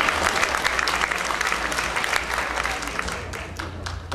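Audience applause at a stand-up comedy show on mental health, a full, continuous round of clapping from the room that holds steady for several seconds and tapers slightly at the end.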